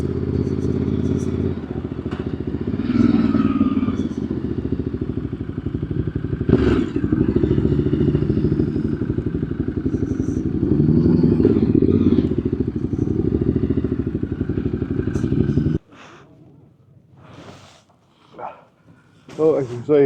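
Vintage Japanese motorcycles arriving at a Thursday morning club meet at Tooradin, a loud steady engine drone with clatter close by, cutting off abruptly near the end to leave faint scattered sounds and a short burst.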